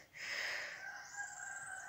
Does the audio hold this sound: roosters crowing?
yes